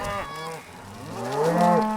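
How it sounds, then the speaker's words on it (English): Cattle low loudly on a Western ranch drive as they pass through a gate, with two or three deep, drawn-out moos overlapping close by in open air. "The cows go through the gate."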